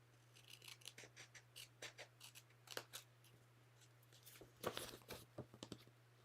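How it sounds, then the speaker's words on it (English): Scissors snip paper trims for a handmade card envelope, a string of quiet, crisp cuts in an irregular rhythm, close by, with brief paper rustling between snips. "I'm just going to trim that right away."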